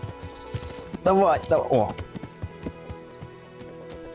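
A horse's hooves clop steadily in the medieval game Kingdom Come: Deliverance, giving soft, regular footfalls beneath someone talking loudly over them.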